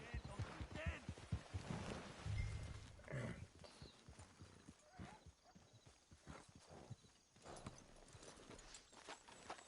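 Horse hooves clip-clop steadily during riding in a video game, a quick rhythmic gait with occasional snorts and a whinny, moderately close and mixed with game ambience.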